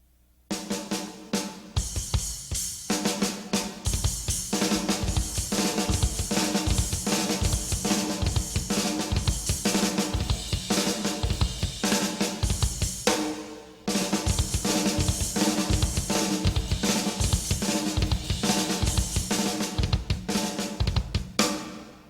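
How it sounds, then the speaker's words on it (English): A drummer plays a steady groove on a drum kit, rolling fast double bass drum strokes against snare hits with splashy cymbal accents. The kit is close and loud throughout, with a brief drop near the middle before the pattern resumes. "the first idea is just kind of going between double bass and snare drum"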